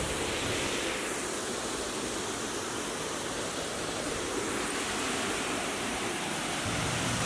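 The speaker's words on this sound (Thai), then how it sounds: "ก็เป็นน้ำตกเล็กๆนะครับ ที่ดูสวยงามสบายตามากเลย" Steady close rush of a small waterfall in Ban Sapan, Bo Kluea district, Nan, a continuous broadband splash and hiss filling the whole stretch without talk.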